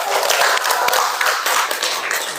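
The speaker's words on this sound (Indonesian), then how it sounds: "Oke, kita beri tepuk tangan dulu." Students in a classroom guidance session clap their hands together, a loud, close, steady patter of many claps filling the room for a couple of seconds.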